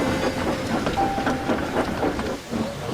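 A train creeps slowly through a foggy railway yard while shunting coaches. It gives a loud, close rumble with rhythmic clanks and wheel clicks and a faint hiss, which dips briefly near the end.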